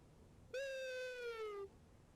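A voice imitates a tawny owl's call as one long, smooth, slightly falling hoot, clear and close, heard alone in a quiet setting.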